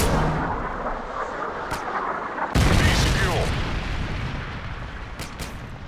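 Heavy airstrike explosions from a stealth bomber run in the video game Modern Warfare 3, a loud booming blast hitting midway and rolling on as sustained rumbling with scattered crackles, game voices murmuring underneath.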